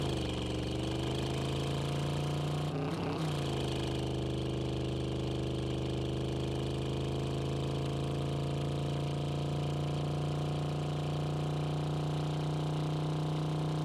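A car engine runs steadily in the Drive Beyond Horizons video game, giving a continuous droning hum with a strong low tone and a brief disturbance early on, with no voices over it.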